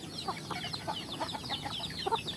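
Free-range village chickens cluck in a quick scattered chorus of short chirping calls, several birds close by with a murmur of yard noise beneath.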